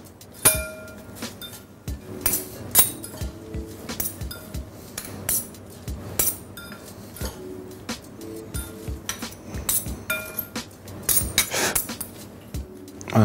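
Lollo rosso, frisée, spinach, arugula and radicchio being tossed together in a bowl, heard as a steady run of light clinks and taps of utensils against the dish, with soft rustling in between and no talking.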